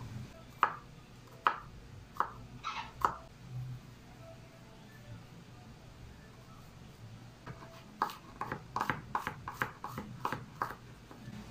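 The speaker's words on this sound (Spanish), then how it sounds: "Ahora vamos a picar el ajo" A knife chops garlic finely on a board in quick clusters of sharp taps, one burst early and a denser run toward the end, fairly close, with a quiet pause between.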